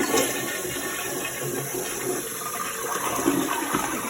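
A household toilet with a running-tank repair flushes with a steady rushing, gurgling water roar that holds loud and close for several seconds with no talking.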